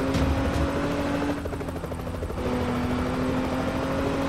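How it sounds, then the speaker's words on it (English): Steady thumping rotor drone of a police helicopter in the video game ERLC, loud and continuous, with a low engine hum underneath and no talking. "But they have helicopters, so they know where I am"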